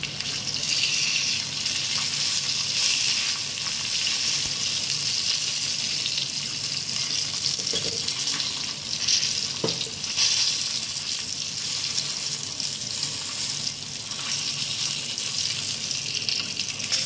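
Rava-coated fish fries on a flat iron tawa, a dense, continuous oily sizzle that stays loud and close throughout, with a few faint scrapes.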